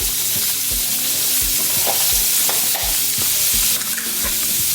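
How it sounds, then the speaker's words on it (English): Butter and margarine sizzle in a hot frying pan, with a steady loud crackle and repeated low scraping knocks from a spoon stirring through it, no talking. "a spoonful of butter, add to it. Give it a stir."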